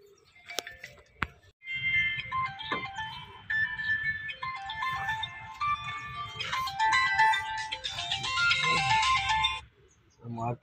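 A phone ringtone sounds during a call in a truck driver's setting: a looping electronic melody of bright chiming notes that plays for several seconds, moderately quiet, then cuts off, with faint talk around it.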